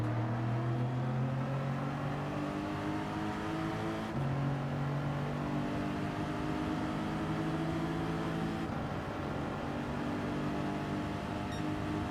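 Toyota Supra race car engine in Gran Turismo 7, a steady droning hum that holds pitch, drops and climbs again as it shifts, continuous and moderately loud with no talk.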